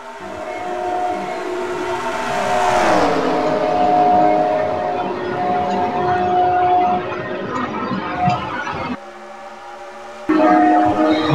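Sim race cars in a truck series event at Chicagoland roar past in a close side-by-side pack, a loud engine drone sweeping down in pitch as they pass, then continuing steadily before briefly dropping out and returning.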